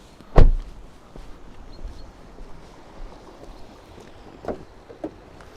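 Trunk of a 2022 Hyundai IONIQ 5 Long Range being opened: a sharp latch clunk near the start, then a quiet hum as the hydraulic struts lift the lid, with a couple of soft clicks toward the end.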